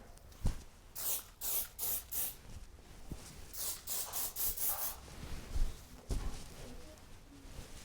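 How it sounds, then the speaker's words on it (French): A heat protectant spray is pumped onto a section of hair in a series of short, close hissing bursts, with quick rubbing and handling noises between the sprays. "J'applique mon spray protecteur thermal sur toute ma section."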